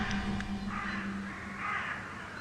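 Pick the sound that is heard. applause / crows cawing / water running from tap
crows cawing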